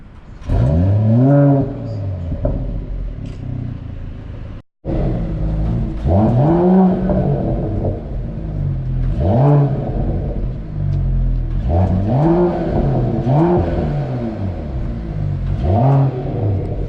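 A 2020 Mercedes-AMG GT 4-door sits with its engine being blipped in a series of sharp revs, each rising and falling, loud and close, with a brief cut partway through and some talking around it.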